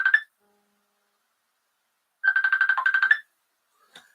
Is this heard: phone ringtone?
yes